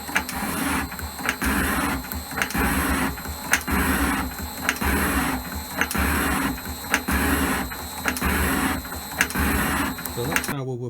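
A high-speed metal shaper set up for aluminium and steel runs in a small home machine shop, its ram cycling in a steady repeating mechanical rhythm about once a second, with someone talking over it.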